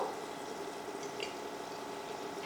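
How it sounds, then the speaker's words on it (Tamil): Water poured into a grinder jar of chillies makes a steady, continuous rushing sound, close and fairly even, with no speech. "அரைக்கிறதுக்கு நம்ம தண்ணி ஊற்றி தான் அரைக்கணும்"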